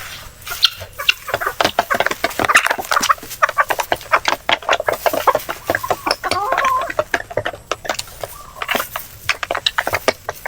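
Native chickens cluck and chatter close by in a rapid, busy series of short calls, fairly loud and continuous, with no talking over them.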